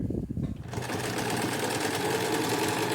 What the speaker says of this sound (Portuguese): E vou começar a fazer essa costura de colocação aqui